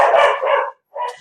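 Dogs bark at home in two short bursts: a longer run of close, loud barks, a brief silence, then one more bark.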